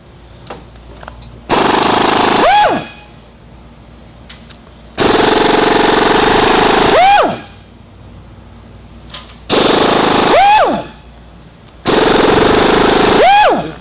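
A pneumatic impact gun loosens bolts on an engine in four loud, close bursts of rapid hammering, each roughly two seconds long, ending with a falling whine as the tool spins down, separated by quiet pauses.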